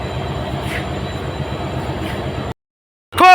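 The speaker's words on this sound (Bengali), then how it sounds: "নিউ আলিপুরদুয়ার স্টেশন থেকে ডিপার্চার হচ্ছে বারো সাঁত্রিশ সাতাত্তর আপ পদাতিক এক্সপ্রেস" A loud, steady low rumble of the Padatik Express train engine departing New Alipurduar station drones on for a few seconds, then cuts to silence before a brief rising tonal burst.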